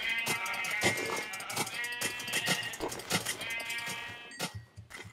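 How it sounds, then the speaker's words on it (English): Sheep bleating in the video game Minecraft, several repeated bleats close by over a steady game background, with no talking. "Is that sheep?"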